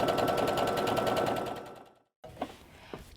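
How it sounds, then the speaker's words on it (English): A sewing machine runs steadily for about two seconds, stitching a quarter-inch side seam on a skirt, then stops. A few soft handling noises follow in the quiet. "Now I'm going to sew a 1/4 inch seam down both sides of my skirt sides."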